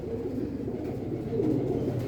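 Soft, low pigeon cooing repeating in a steady murmur, close by and fairly quiet, with no voices.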